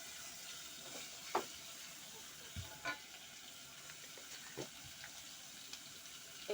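Liver sizzling in hot cooking oil in a pan during traditional home cooking, a quiet steady frying hiss with a few soft clinks and scrapes scattered through it.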